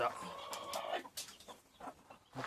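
A hen that has been laying eggs clucks in short, irregular bursts close by, with other faint bird and farmyard noises scattered between them.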